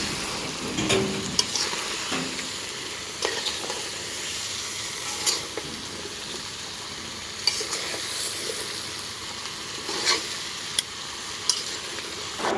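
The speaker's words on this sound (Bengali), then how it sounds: "এই সবজিগুলো মাছের সঙ্গে কিছুক্ষণ কষিয়ে নেব" Fish head and vegetables for a curry sizzle in a wok on a wobbly stove, with a constant frying hiss broken by scrapes and clanks of stirring at irregular intervals; no voices.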